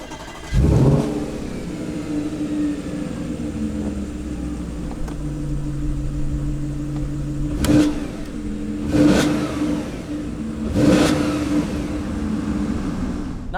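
A 450bhp Audi RS5 idles with a steady mid-pitched hum, then blips its engine in three short revs, heard close and loud, with no one talking.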